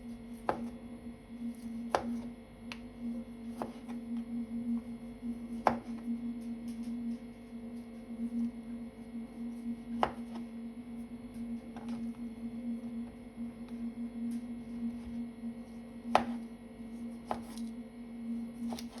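Sharp, well-spaced knife taps on a cutting board as salami is thinly sliced, irregular and fairly quiet, over a steady low hum.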